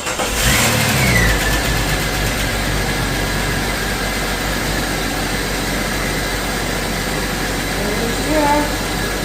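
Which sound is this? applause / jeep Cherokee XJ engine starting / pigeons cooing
jeep Cherokee XJ engine starting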